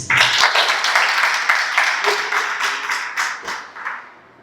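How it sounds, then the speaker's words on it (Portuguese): Church congregation bursts into loud, sustained applause with dense clapping through most of the stretch, easing off and fading near the end; no talk over it. "Você pode aplaudir Jesus?"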